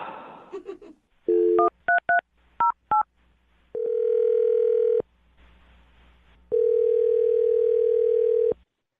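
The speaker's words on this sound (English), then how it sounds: "I'm going to dial her phone number and see if we can get her on the phone." A series of telephone keypad tones, short beeps in quick pairs, then a sustained dial tone, a pause with hiss, and another long steady tone.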